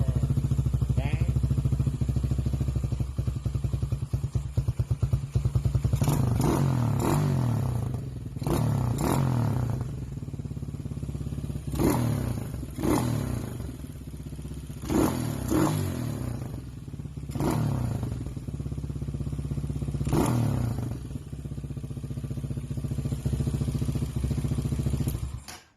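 A motorcycle engine with re-jetted carburetor and overhauled, heat-wrapped exhaust idles and revs repeatedly in short bursts, each rev rising sharply then dropping back, loud and close, with rattly exhaust pops between.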